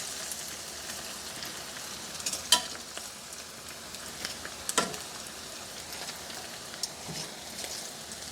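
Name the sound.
saltfish sizzling as it is removed from frying oil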